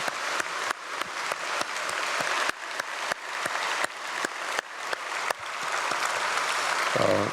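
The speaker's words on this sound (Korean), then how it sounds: "우리 박수로 축복하겠습니다" A church congregation at a dawn prayer service applauds to bless a missionary, a loud sustained round of clapping that holds steady throughout.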